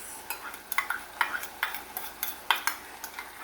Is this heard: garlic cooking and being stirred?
yes